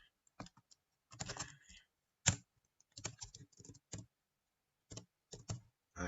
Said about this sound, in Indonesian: nah sini gue mulai ngetik nih